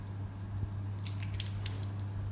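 Tap water running steadily while hands and forearms are rinsed up to the elbow, a soft continuous trickle with light splashes, fairly quiet and without talk.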